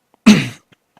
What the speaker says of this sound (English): God, my cough.